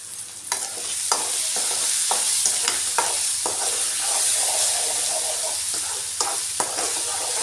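Capsicum curry frying in a pan is stirred, with a dense, loud sizzling hiss broken by repeated spatula scrapes and knocks at an irregular pace.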